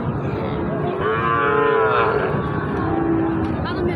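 Sahiwal cattle at a busy cattle market give a drawn-out moo, loud and close, over steady crowd murmur and background chatter.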